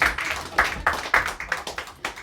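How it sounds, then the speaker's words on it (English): An audience at a comedy show claps for a man in a brief, light round of applause, a handful of distinct hand claps heard close and fairly sparse. "Clap for him."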